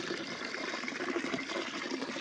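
Water running steadily from a tap into a container for watering garden plants, a continuous close splashing rush with no other sounds.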